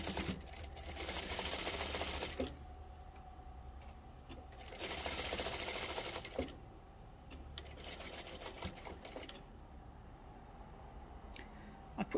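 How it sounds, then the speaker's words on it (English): A sewing machine top stitches across a towel topper in two steady bursts of fast, even whirring, with quieter pauses and light handling noises between runs. "we're just going to top stitch"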